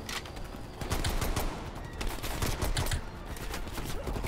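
Pistol gunfire in Call of Duty: Black Ops Cold War, a rapid, loud string of sharp shots crackling one after another without pause.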